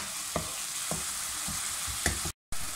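Ajwain seeds frying in a pan over medium heat for a masala bhindi gravy, a steady close sizzle broken by a few sharp spoon scrapes and knocks as the spices are stirred.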